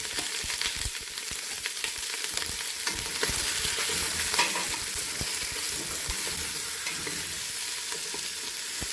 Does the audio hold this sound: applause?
no